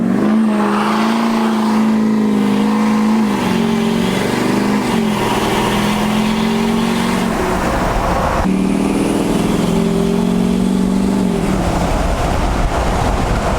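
A tuned, deleted LML Duramax diesel pickup accelerates hard, its loud engine droning and rising steadily through two long pulls with a brief shift dip between them, heard close with no talking.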